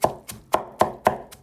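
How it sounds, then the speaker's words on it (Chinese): Lotus root is chopped into small pieces with six close, crisp chops in a steady rhythm about a quarter second apart. The last strike is softer, and no one speaks. "我们呢随便再给它剁几下，给它剁成细颗粒"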